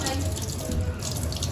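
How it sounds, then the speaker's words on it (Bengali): Potatoes rinsed under a running tap in a home kitchen, a steady close splash of water filling the short moment, with faint voices in the background. "এখন আলুগুলো ধুয়ে নেওয়া হচ্ছে"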